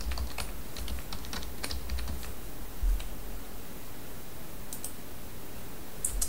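Keystrokes on a computer keyboard as a password is typed, a quick run of close, light clicks and taps with brief pauses, alone over a low steady room hum.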